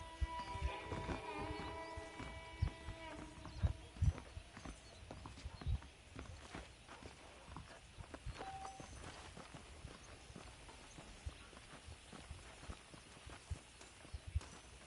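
Horses clip-clop at a walking pace in the Western game Red Dead Redemption, a steady run of hoof thuds over a ranch backdrop, with brief musical tones early on and no talking.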